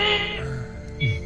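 A human voice imitates dial-up internet computer noise, giving a short, close, screechy warble that bends up and down for about a second.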